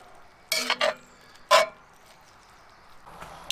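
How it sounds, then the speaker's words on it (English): Bison stew cooking in a pot being stirred, with a few brief scraping strokes of a utensil against the pot separated by quiet pauses and a faint background hiss. "Mix that in, let that cook for a minute."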